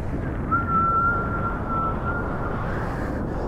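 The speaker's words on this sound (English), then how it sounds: "it's the only board that's ever whistled at me whilst I'm going down the face" High-speed whistle from a Sharpeye FT shortboard surfboard, Filipe Toledo's model, racing down a wave face: a thin steady tone holds for about a second over loud rushing wind and water noise.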